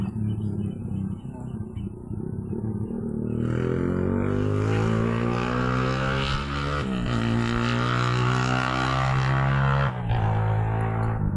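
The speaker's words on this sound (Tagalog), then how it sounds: "Ingay naman ang motor na yun dun oh." A loud motorboat engine drones and rises in pitch as it revs, steady and close, staying prominent for several seconds.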